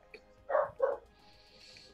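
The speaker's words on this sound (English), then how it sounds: "Doggo sounds happy." A happy dog in the game Warhammer Fantasy gives two quick close barks, separated by a short pause, then another starting at the end over quiet ambience.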